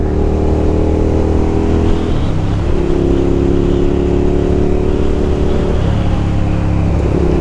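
A Hyosung 650cc twin motorcycle engine drones loudly and steadily up close, its pitch dipping and climbing as the throttle shifts.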